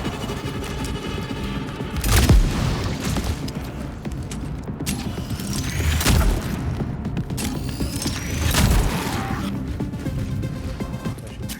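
Gunfire and heavy booms in the horror video game Cronos: The New Dawn, three loud blasts spaced a few seconds apart over a dense, continuous mechanical game soundscape.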